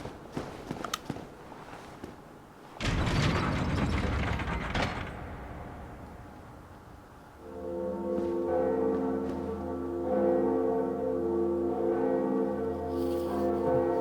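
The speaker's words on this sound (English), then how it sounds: "it's the second bell" A bell in the game Dark Souls Remastered follows a clatter of mechanical ratcheting and gear noise, then a sustained, resonant bell tone that hangs and swells loudly over the second half.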